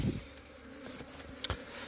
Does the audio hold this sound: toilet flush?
no